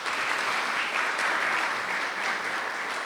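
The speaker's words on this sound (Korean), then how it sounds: "우리 김혜정 팀장님께 큰 박수 다시 한번 부탁드리도록 하겠습니다" Audience applause for a hospital team leader after a lecture on organ donation and end-of-life care, at an organ donor gathering. Dense, steady clapping fills the room at a constant level throughout, with no voices.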